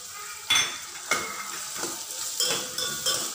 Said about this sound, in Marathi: आता यामध्ये हा बारीक चिरलेला कांदा भाजून घ्यायचा